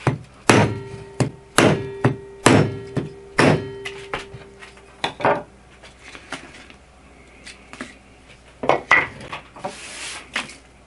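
A knife with a CPM Rex121 steel blade, sharpened to a 10-degree-per-side edge, chops into wood in a run of about eight sharp, evenly spaced strikes. Quieter scattered taps and light scraping follow, with no voices.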